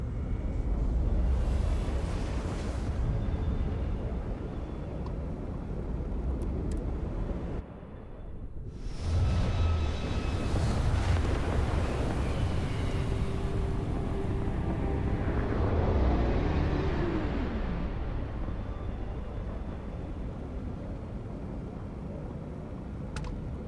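Spaceship engines in the video game Starfield rumble through undocking and takeoff, a loud, sustained low roar that cuts out briefly, then returns with a rising whoosh and a swelling, sweeping tone as the craft flies off.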